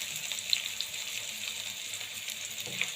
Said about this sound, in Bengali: তেল গরম হয়ে গেছে, দিয়ে দিব কাঁচামরিচ, পেঁয়াজ,